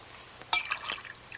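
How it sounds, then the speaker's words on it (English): Water poured into a glass in a quiet room, a short faint splash and trickle of a few bright pours lasting under a second, with no voices. "And a glass of water, no, clear."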